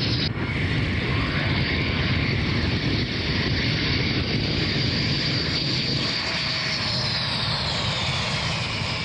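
Russian front-line military aircraft fly past at an air base in Crimea, a loud sustained engine roar that holds steady throughout with a faint whine above it and no voices.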